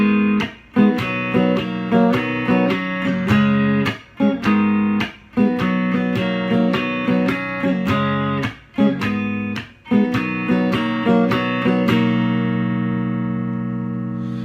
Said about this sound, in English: What I'm going to do for the chorus is play the rhythm guitar part